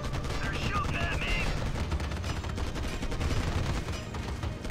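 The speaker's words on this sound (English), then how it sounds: "They're shooting at me." Gunfire from enemy troops in the real-time strategy game Act of War, a dense continuous rattle of shots and explosions under game sounds with faint voices mixed in.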